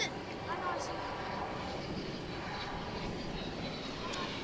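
An airliner at DFW International Airport aborts its landing and climbs away on a go-around, its engines producing a steady, broad roar at a moderate distance that holds evenly throughout, with voices talking faintly over it.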